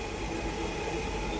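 Inside a moving Delhi metro train, a loud, steady rumble and rush of wheels and air fills the car without a break.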